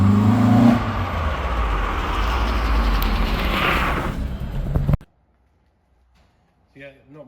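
A 1979 Ford Escort Mark II RS2000 drives along a private road, its engine note loud and steady with wind rush for about five seconds before cutting abruptly to near silence, with a brief faint sound near the end.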